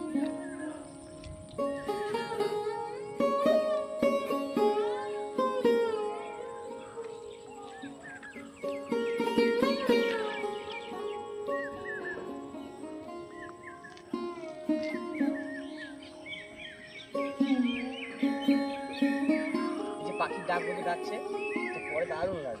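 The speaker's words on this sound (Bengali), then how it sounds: "এই পাখির কলরব এইসব শোনার জন্যেই তো গ্রামে ছুটে ছুটে আসা।" Birds in a green Sundarbans village give a dense mix of chirps and warbling calls, rising and falling over the whole stretch, with other tonal calls and background activity blended in.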